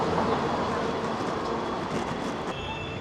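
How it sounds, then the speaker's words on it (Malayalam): Steady, loud rumble of a train at a Mumbai railway station, with broadband rail noise and faint squealing, continuous throughout with no voices. "വല്ലാത്ത റെയിൽവേ സ്റ്റേഷൻ തന്നെ കേട്ടോ"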